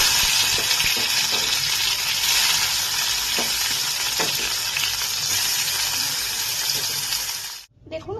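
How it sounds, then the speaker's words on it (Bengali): Steady, loud sizzling of bitter gourd frying in hot oil fills the clip, with occasional stirring clicks, then cuts out abruptly near the end. "এবার আমি এর মধ্যে উচ্ছেগুলোকে দিয়ে ভেজে নিচ্ছি"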